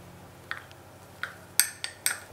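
Light clinks of a utensil against a bowl while desiccated coconut, sugar, egg white and almond butter are combined for coconut macaroons, a handful of sharp separate taps spaced through a quiet room.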